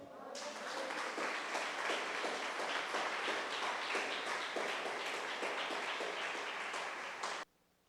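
A church congregation applauds in steady, dense clapping that holds for about seven seconds and then stops abruptly. It sounds fairly faint and distant.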